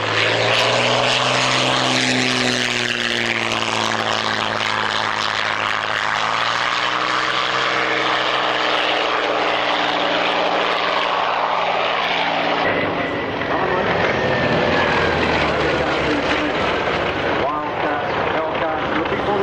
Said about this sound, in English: infinitely more twitchy a little aeroplane, Messerschmitt 109.